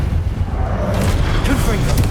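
A loud, continuous booming rumble from a Confringo fire spell exploding in Hogwarts Legacy during a Pensieve Guardian boss fight, dense and close throughout, with a rising burst of crackling impact partway through.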